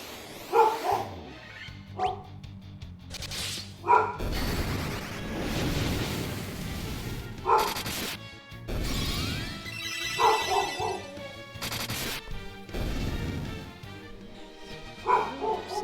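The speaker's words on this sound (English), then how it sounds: "The dog just woke up from her nap barking for some reason." A dog freshly awake from a nap barks in loud, separate bursts, several short volleys spaced a few seconds apart over continuous video game music.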